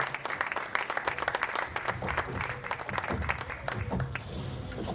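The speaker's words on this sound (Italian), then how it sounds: "E naturalmente lo accogliamo con l'applauso." An audience at a conference applauds as the mayor is called onto the stage, with crisp individual claps clearly separated in a moderate, sustained round and some murmuring underneath.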